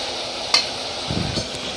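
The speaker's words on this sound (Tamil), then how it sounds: "இதை எல்லாத்தையும் வந்துட்டு நல்லா ஃப்ரை பண்ணிக்கோங்க." Onion, mint, curry leaves and tomato fry in a pan for mutton kola urundai kulambu, with a soft low sizzle, a sharp clink of a spoon against the pan and a brief stirring scrape.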